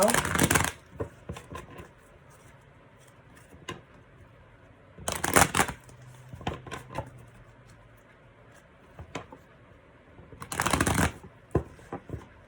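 Three bursts of tarot cards being riffle-shuffled, each a quick loud flutter, separated by quieter handling and tapping of the deck.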